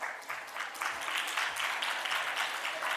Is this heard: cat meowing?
no